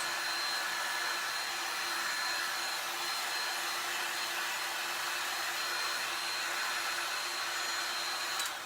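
Steady, continuous whir of a heat tool blowing hot air to dry paint on a Dollar Tree book stack, close and constant with no talk over it.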